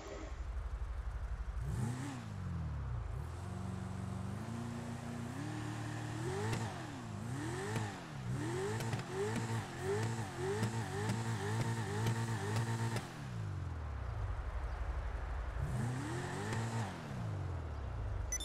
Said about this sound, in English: I think I'll show you guys the car engine sounds now.